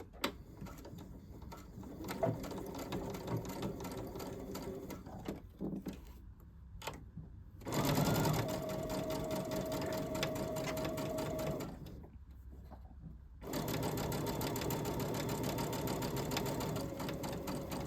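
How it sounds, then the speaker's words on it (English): Sewing machine stitching a jacket collar, running in long steady bursts with brief pauses between seams, close and clear, with a few handling clicks. "so now we want to sew our collar together"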